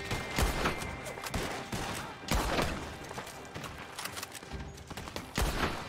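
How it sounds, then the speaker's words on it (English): Bolt-action rifle fire in Red Dead Online, several sharp gunshot cracks spaced irregularly over the stretch with reverberant tails, moderately loud against a faint game background. "it's been a while since you had the old bolt gun out"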